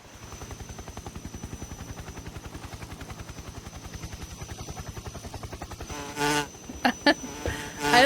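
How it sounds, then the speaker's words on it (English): A swarm of hornets buzzes in Metal Gear Solid 3, a steady, rhythmic, pulsing drone that runs throughout, broken near the end by several sharp, loud bursts. "Hornets?"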